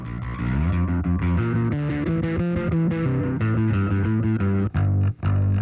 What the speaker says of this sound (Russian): А вот это классный басовый звук.